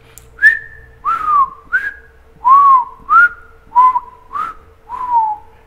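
A person whistles a series of about eight short, clear notes, each sliding slightly down in pitch, with small pauses between them.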